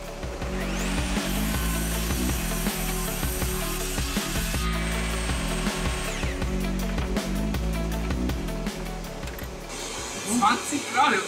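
A saw cuts through wood in steady rhythmic strokes for several seconds, close and loud, before tailing off as a voice speaks briefly.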